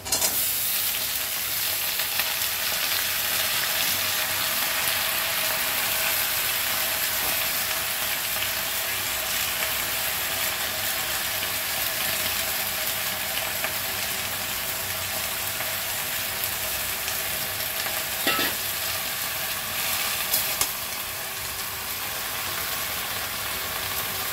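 Malabar spinach leaves sizzle in hot oil with chopped garlic and hilsa fish bones in a pan, a steady close hiss of frying held throughout with faint stirring crackles.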